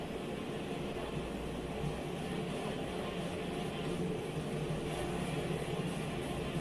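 Aircraft engines from the Trojan display planes at the Tinker air show in Oklahoma City give a steady, broad roar that stays loud and unbroken, with no voices over it.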